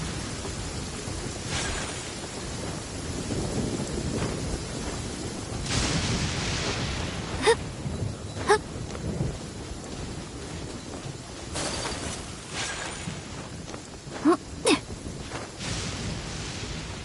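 Rain and thunder in the Genshin Impact video game, a constant rain hiss broken by several sharp cracks and short rumbles scattered through the stretch.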